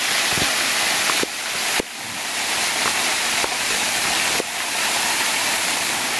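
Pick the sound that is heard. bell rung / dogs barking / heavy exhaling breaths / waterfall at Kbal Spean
waterfall at Kbal Spean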